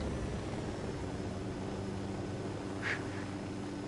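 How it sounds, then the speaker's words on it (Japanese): A helicopter in the Ghost Recon Wildlands video game gives a steady, loud broadband engine and rotor drone that carries on without a break, with a short brighter whine rising near the end. "このヘリ乗れ、このヘリ。"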